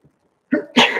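A single sneeze from a person during an interview, a short sharp burst with a quick intake of breath before it, close and clear in an otherwise quiet room.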